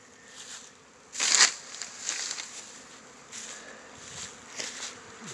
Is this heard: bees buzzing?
yes